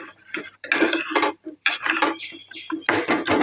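A spoon stirs and beats an egg mixture with pepper and cumin in a bowl for a bread omelette, making close, rhythmic bursts of clinking and scraping separated by brief pauses, with no voices.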